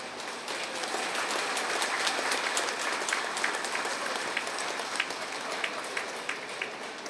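Steady audience applause at a spiritual book launch ceremony, many hands clapping in a continuous, fairly even roar for several seconds with no one speaking over it.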